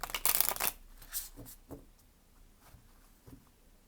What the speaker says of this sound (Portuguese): Vamos embaralhar assim para tirar uma cartinha pra gente